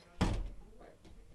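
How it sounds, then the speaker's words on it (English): A door swings shut with one solid thunk on a cold, windy night, close and fairly loud, followed by a faint softer knock or rattle as it settles. "can I shut this door?"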